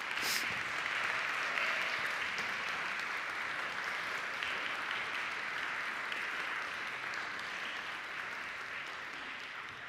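A congregation applauds two camera crew members receiving awards at a talk, sustained, even clapping that fills the room for the full stretch without pause.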